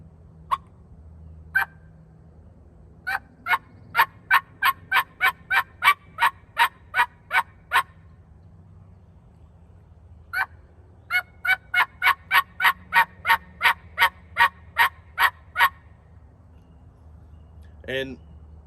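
A mouth call blown to imitate a turkey plain yelp, with two long runs of evenly spaced, rhythmic yelping notes and a few single notes around them, clear and close against a quiet background.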